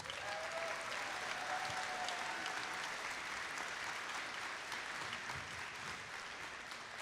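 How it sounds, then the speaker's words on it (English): At a district robotics championship, an arena crowd breaks into sustained applause, a faint and steady wash of clapping heard from a distance with no talking. "So give yourselves a round of applause."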